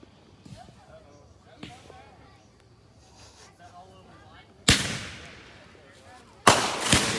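Fireworks from an opening-night show in Marietta burst outdoors: scattered lighter pops early on, then two loud, sharp explosions with rumbling decay near the end, with faint talk underneath.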